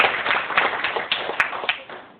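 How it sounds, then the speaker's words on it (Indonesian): A church congregation claps together during a worship service, with a brisk patter of hand claps that rises and falls in uneven bursts at close range. "Berikan tepuk tangan buat Tuhan Yesus."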